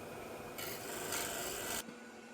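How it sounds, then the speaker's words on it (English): Abrasive paper rasping against a spinning wooden tea light holder on a lathe, a steady close scratchy hiss over the lathe's hum that swells for just over a second, then cuts off. "Sanding through the grits."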